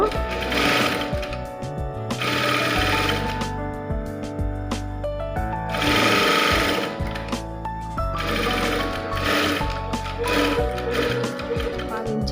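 A sewing machine stitching a strip of cloth piping around a round neckline, its motor whirring in repeated runs of several seconds under a talking voice and steady tonal background sound.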